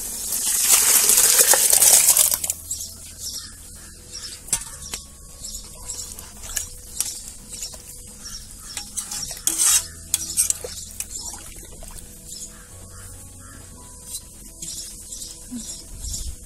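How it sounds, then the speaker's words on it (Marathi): Mutton pours into fried masala in a pot over a wood-fired clay stove, a loud sizzling rush at first, then repeated metal scrapes and clinks of stirring with a softer ongoing sizzle, up close. "आता हे मटण ह्याच्यात ओतायचं"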